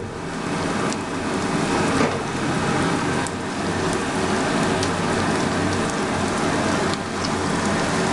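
Ginger-garlic paste sizzles with chicken in a hot kadhai pan, giving a loud, steady, crackling hiss that runs throughout, with scattered sharper pops and no talking.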